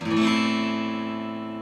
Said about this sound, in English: It would sound like this if you played it with the open E.